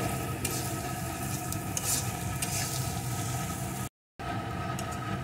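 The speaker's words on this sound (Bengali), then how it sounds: "গাজরটাও পেঁয়াজের সাথে একটু ভেজে নেব।" Carrot and onion are stir-fried in a pan, a steady close sizzle with scraping stirring strokes throughout and a brief silent gap near the end.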